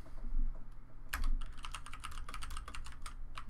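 Someone types on a computer keyboard, close and fairly quiet. After a brief pause, quick bursts of crisp key clicks run at an uneven rhythm, with no talking.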